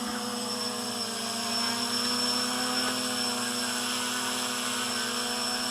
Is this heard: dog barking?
no